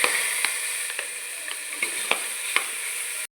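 Marinated chicken goes into a hot pan of fried greens and tomato for chicken green masala, giving a steady close sizzle and frying hiss with a few sharp crackles and spatters.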